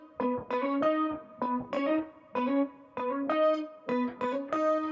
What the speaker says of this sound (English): I'm also running it into a auto filter with the envelope turned up quite a bit. So it's just adding a bit of filter movement again.